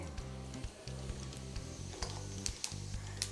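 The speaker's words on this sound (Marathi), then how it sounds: "तेल तापत आलेले आहे आपण टाकतो मोहरी मोहरी झाल्यावर आपण टाकणार आहे जिरे" Mustard seeds and cumin sizzle in hot oil for a tempering, giving a faint crackle with scattered sharp pops over a low, pulsing background hum.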